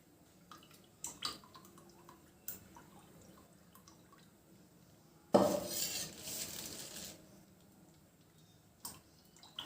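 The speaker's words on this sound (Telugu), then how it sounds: "ఇప్పుడు డీప్ ఫ్రైకి సరిపడా ఆయిల్ని వేసుకుందామండి." Cooking oil is poured into a pan for deep frying wheat-flour snacks. A single soft, hissing pour lasts under two seconds midway, amid light clinks of dishes and utensils in a quiet kitchen.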